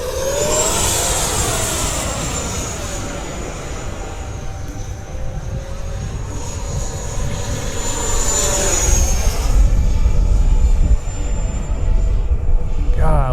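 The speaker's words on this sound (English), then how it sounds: "this thing just sounds so good for an 80mm jet" An 80mm electric ducted fan RC model F-16 jet flies past outdoors with a steady loud whine that rises and falls in pitch as it passes, over wind rumble.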